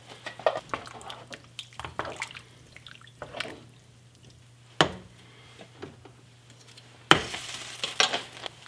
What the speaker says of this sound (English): Now let's take it over to the boiling water bath.